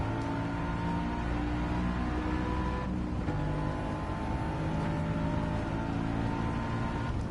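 A Mercedes-AMG GT S sports car engine drones steadily while accelerating, with a continuous, loud rumble and whine, holding a high pitch throughout with no voices.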